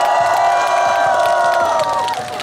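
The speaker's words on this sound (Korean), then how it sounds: "축하의 박수 부탁드립니다." A festival crowd at the Mapo Naru salted shrimp festival at Hongdae Red Road claps and cheers in a dense, steady wash of applause that fades slightly toward the end, heard alongside a sustained musical tone.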